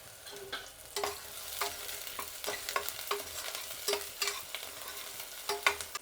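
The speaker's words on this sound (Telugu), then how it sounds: "ఇప్పుడు మనం పచ్చిమిర్చి వేసుకుందాము." Green chillies and onions fry in a pan, a low sizzle punctuated by repeated spatula scrapes and taps in an uneven rhythm, close and quiet with no talking.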